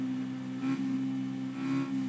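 A motorcycle engine during a race holds a steady, droning hum with two brief surges in revs, loud and close with no voices.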